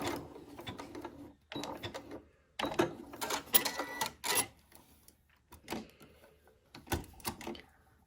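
Domestic sewing machine stitching near the edge of fabric for a Fibremood Lauren top, heard in short bursts of mechanical whirring separated by pauses, close and moderately loud, with faint handling noises between runs.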